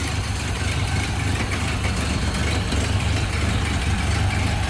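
A 1929 Ford Model A Roadster's engine idles smoothly and steadily, a close, continuous low rumble with no voices.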